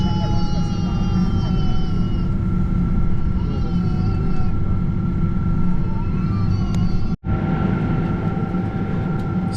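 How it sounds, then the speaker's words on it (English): Inside a British Airways aircraft taxiing at London Gatwick toward runway 26 left, a steady cabin hum and engine whine persist with a brief drop-out near the end, and a voice talks over it. "we began our taxi out to London Gatwick's runway 26 left"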